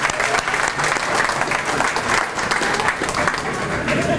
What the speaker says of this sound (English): Let's have a round of applause for Aer Lingus for this investment in Cleveland